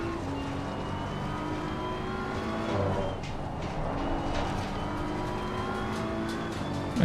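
Race car engine in the racing game ACC, revving and pulling hard under throttle, with steady harmonic engine tones rising and shifting through corners, close and continuous.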